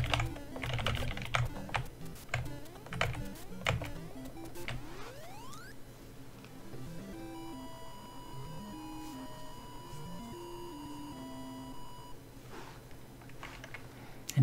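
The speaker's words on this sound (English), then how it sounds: "And yes, I'm playing on keyboard." Computer keyboard keys clack rapidly and unevenly while Super Mario Bros. on the NES plays, the close tapping running alongside chiptune game music and sound effects throughout.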